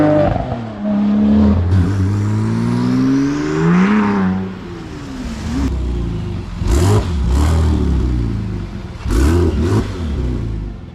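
A rebuilt twin-turbo Porsche 911 Turbo engine revs hard, with rising and falling throttle sweeps, turbo whoosh and sharp bursts of blips near the end, loud and close.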